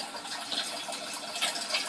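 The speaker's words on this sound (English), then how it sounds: "The water is being recycled. Pump is working fine." Water circulated by a pump through an earthing coil setup with spinning plates, a steady close splashing and gushing rush that runs continuously without pause.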